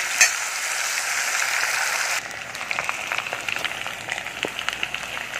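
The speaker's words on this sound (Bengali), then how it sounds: "আদা রসুনের পেস্ট দিয়ে দিচ্ছি, এটাকে ভালো করে কষে নেবো" Ginger garlic paste and potatoes fry in hot oil for a chicken, brinjal and potato curry, giving a dense, steady sizzle that drops and turns choppier partway, with scattered spatters and stirring scrapes up close.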